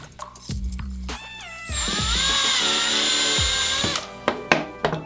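A power drill whines loudly for a few seconds as it bores a hole into a circuit board, with short starts and stops before and after the main run; no talking.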